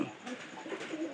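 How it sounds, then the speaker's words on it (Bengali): Pigeons in a home loft cooing softly, a few low, repeated throaty coos close by in a quiet room. "আমাদের ঘরে কবুতর"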